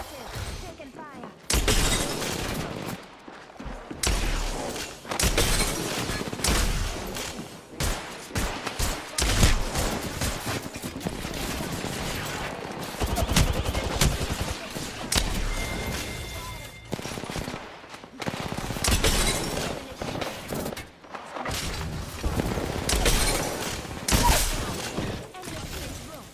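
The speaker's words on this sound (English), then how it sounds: "I'm spotted. Taking fire." Bursts of video game gunfire fill a battle-royale match as the player comes under fire, loud volleys and rapid shots recurring across the stretch, with a voice talking over much of it.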